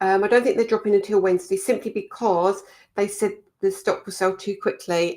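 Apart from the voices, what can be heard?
No distinct noise like a dog, phone or traffic.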